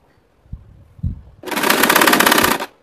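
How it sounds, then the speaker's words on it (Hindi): A sewing machine stitching a zip onto a homemade bag runs in one steady, loud burst of rapid stitching lasting about a second, preceded by a couple of soft thumps as the fabric is handled. "पूरे घेरे में इसी ढंग से हम सिलते हुए जाएंगे।"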